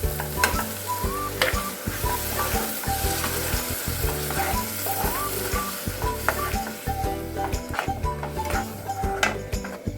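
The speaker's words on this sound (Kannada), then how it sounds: "ಇದು ಹಸಿ ವಾಸನೆವರೆಗೂ ಹೋಗೋವರೆಗೂ ಸ್ವಲ್ಪ ಕುದೀಲಿ" Ground masala paste for egg curry frying and sizzling in a pan, with steady crackle and repeated stirring scrapes and clicks from a spoon against the pan, close and alone.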